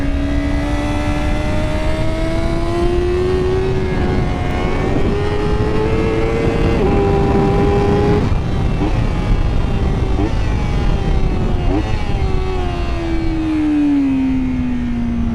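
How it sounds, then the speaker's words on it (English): A MotoGP video game motorcycle with a split throttle body screams at high revs, its tonal engine note rising and dropping through gear changes, loud and continuous, with occasional talking underneath. "Oh, the sound of this split throttle body"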